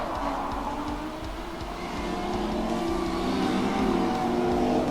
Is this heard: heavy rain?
no